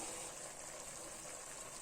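Water pours steadily into soaked seeraga samba rice in a pressure cooker for vegetable biryani, a faint continuous gushing splash close by.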